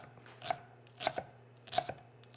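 A knife finely minces an onion on a cutting board, three quick clusters of crisp, close chopping taps with short pauses between them.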